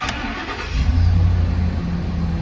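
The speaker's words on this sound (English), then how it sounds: "So I'm gonna start the truck up." A 2011 Ford F250 pickup with the 6.2L V8 cranks and fires up, the engine catching with a brief burst then settling into a steady, close, loud idle rumble.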